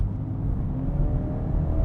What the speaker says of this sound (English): let's hit the performance button and see what happens if you put it into sport mode, because that will kick the engine into life